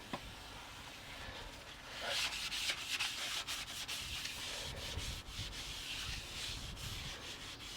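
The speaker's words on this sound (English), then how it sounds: "Clean with brake cleaner." Steady scrubbing and rubbing as a Land Rover Discovery 1 clutch part is cleaned with brake cleaner, a continuous close, moderately loud rasping texture that swells after the first couple of seconds and keeps going with no talk.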